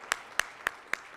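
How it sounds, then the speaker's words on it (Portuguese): Five separate sharp claps spaced evenly about a quarter second apart at a meeting, rather sparse and moderately close, with no talking, more like a few people clapping than a full audience ovation. "Salva de palmas, gente."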